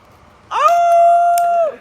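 A dog howls alone in one sustained, steady, fairly loud note lasting about a second, rising at the start and bending down at the end.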